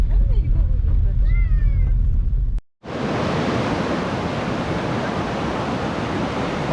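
A cold mountain spring stream running down from the peak, its close, steady rushing flow filling the clip after a short opening stretch of faint voices and outdoor sounds.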